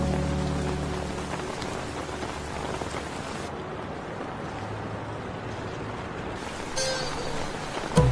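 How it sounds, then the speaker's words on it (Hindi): Steady, heavy rain falls, hissing across surfaces and pattering close by without a break, with a low rumble running underneath. "मुझे पता है बारिश हो रही है"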